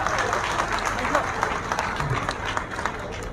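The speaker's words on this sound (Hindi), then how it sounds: "तालियों के साथ स्वागत करेंगे" A crowd at a BSP Brahmin conference rally gives steady applause to welcome a guest, a continuous wash of clapping under a voice on a public address system.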